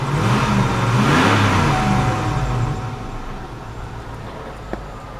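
A 1998 Cadillac Eldorado engine runs and revs, a loud rising roar that eases off to a steady idle hum, with a brief click near the end.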